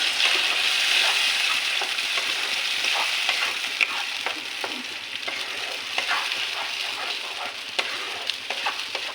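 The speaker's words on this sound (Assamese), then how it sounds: "এতিয়া বনাই লোৱা পেষ্টখিনি দি দিম এয়া চাওক দি দিছোঁ এতিয়া ভালকৈ লৰাই দিম" A spoon stirs a ripe tomato paste frying in a pan for restaurant-style matar paneer, with scattered scrapes and knocks over a steady close sizzle and no talking.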